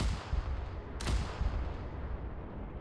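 Starship broadside cannon fire in a Warhammer 40K space battle, a single deep booming blast over a constant low rumbling din, heavy and distant-sounding, with no talk.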